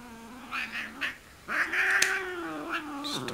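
A cat yowls in protest while her nails are trimmed, giving a few short wavering cries and then a longer, drawn-out caterwaul, close and fairly loud with quiet gaps between calls.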